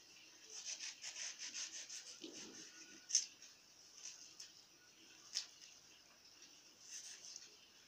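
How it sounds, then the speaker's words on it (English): Knife cutting a mango into small pieces, a series of faint soft scraping and tapping strokes, with a few sharper clicks against the board, close and quiet. "Then I'll cut my mango into small"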